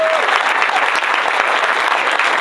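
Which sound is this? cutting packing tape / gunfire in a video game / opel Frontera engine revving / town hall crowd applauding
town hall crowd applauding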